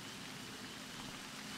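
Steady rain falls in the video game Ghost Thief, a dense, even hiss of drops that holds at a constant level throughout with no voices.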